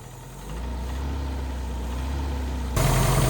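An idling Mercury Capri Turbo engine with a failing motor mount and vacuum leaks rises into a brief rev near the end, a steady low rumble that swells louder for the final half second.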